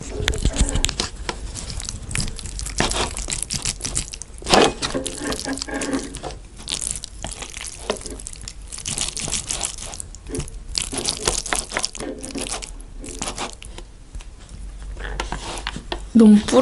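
Close-up eating of Korean buldak fire noodles and sausage rice cake skewers, with steady crunchy chewing, slurping and wet mouth sounds running throughout, plus occasional light clinks, recorded intimately with no talking.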